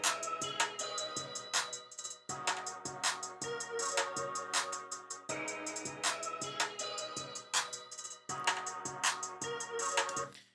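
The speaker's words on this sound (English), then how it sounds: "I've got some drums from the industry slap kit going off." Punchy drum loop from the Industry Slap sample kit at 160 BPM, repeating kicks and snappy hits in a steady pattern, playing alone with no talk.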